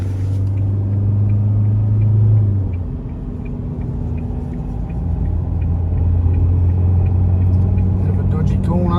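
Car on an outback road trip accelerates hard to overtake a group of cyclists, a loud low engine rumble and drone that dips briefly and then builds again, steady and close throughout.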